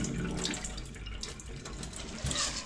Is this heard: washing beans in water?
yes